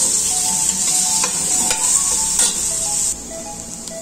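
Wine sizzling hard as it deglazes a chicken stew casserole, with onion and garlic then frying in it; a steady bright hiss runs throughout, broken by several scraping stirs, and it drops noticeably quieter near the end.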